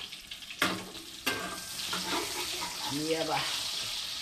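Egg frying in oil in a pan with eggplant sizzles softly while a utensil scrapes and stirs with a couple of sharp clacks, and a voice speaks briefly over it.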